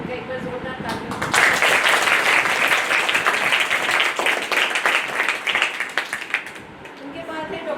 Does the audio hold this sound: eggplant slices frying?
no